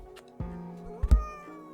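A cat gives a few short meows close by, with a louder, sharper cry near the end, over a quiet low background hum.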